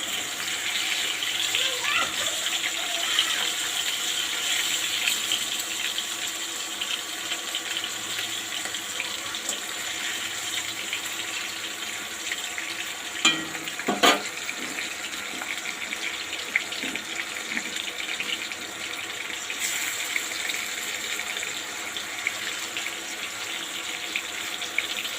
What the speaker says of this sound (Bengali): চারটে চারটে করে মাছগুলো ভেজে নেবো